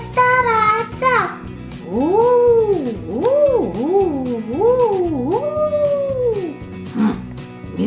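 A voice howls in long rising and falling wails, imitating strong wind, in a Masha and the Bear toy cartoon. It is loud and close, after a brief cry at the start and over a faint background.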